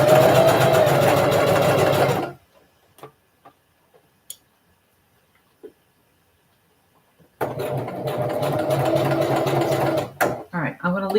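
A sewing machine stitches fabric for a Butterick 5506 pattern: a loud, steady buzzing run, a long stop with scattered faint clicks, then a second steady run ending in a few uneven bursts.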